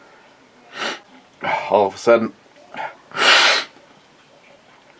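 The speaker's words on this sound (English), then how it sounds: "I'm gonna sneeze." A single loud sneeze bursts out near the end, after a brief stretch of speech and a sharp intake of breath.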